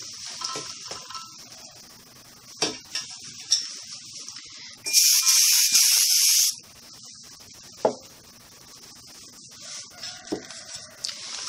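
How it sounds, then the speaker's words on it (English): Butter-flavored pan spray hisses from a can onto a pan in one sustained burst lasting under two seconds, loud and close, with quiet kitchen clinks and handling before and after. "Just use some pan spray."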